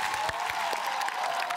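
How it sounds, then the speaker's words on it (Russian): Audience applause at a comedy roast, a steady wash of clapping from a crowd filling the brief moment, fairly loud and continuous with no voices rising above it. "Аплодисменты!"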